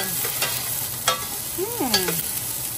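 Onions and tomatoes sauté in a pan, a steady sizzle under repeated scraping stirs of a spatula, with a faint whistling tone briefly rising and falling near the end.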